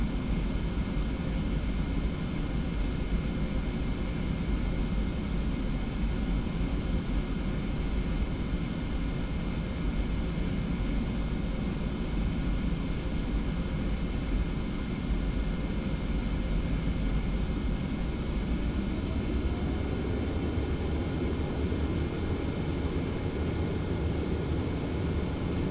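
Simulated jet engines of a TFDi 717-200 in the Prepar3D flight simulator spooling up, a steady loud roar and hum whose whine rises in pitch toward the end as thrust builds, with no talking.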